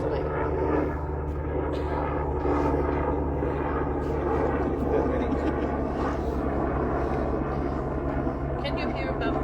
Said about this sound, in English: Can you hear above the plane?